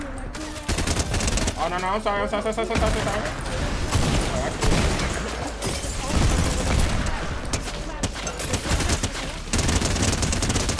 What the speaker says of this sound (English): Give me the minigun, please.